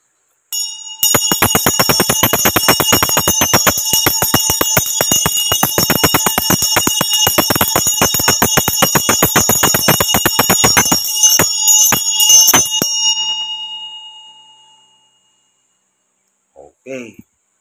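A bell is struck over and over in a fast, dense, ringing rhythm for about twelve seconds, then trails off into a long decaying hum, followed by silence and a brief faint sound at the end.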